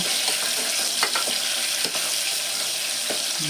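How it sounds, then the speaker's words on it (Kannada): Onions frying in a pan hiss in a steady close sizzle, with a few soft stirring clicks breaking through now and then, with no voices over it. "ಈರುಳ್ಳಿ ಒಂಚೂರು ಚೆನ್ನಾಗಿ ಹುರ್ಕೋಬೇಕು."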